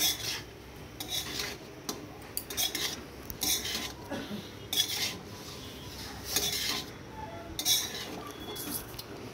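Chowmein cooking in a pan in a village home kitchen, with repeated metal scraping and clinking of a spatula against the pan over a soft sizzling bed, close and steady, no talk.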